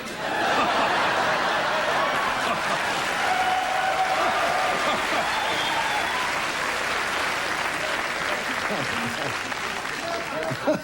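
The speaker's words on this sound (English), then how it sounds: "Thank you for that applause." Studio audience applause at a late-night television talk show, steady and loud clapping from a large crowd throughout, with scattered laughter mixed in.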